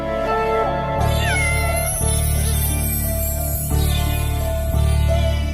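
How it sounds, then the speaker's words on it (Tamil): A cat meows repeatedly, several drawn-out calls in a row, close by with a steady hum in the background. "பூனை குறுக்க ஓடுது"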